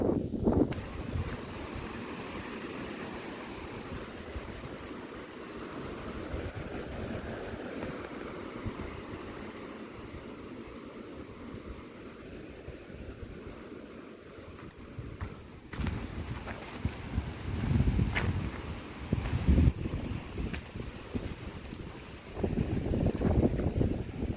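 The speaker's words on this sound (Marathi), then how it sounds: "वारा खूप जोरदार आला आहे" Strong wind roars and buffets the microphone continuously, with heavier gusts surging in the second half; no one speaks.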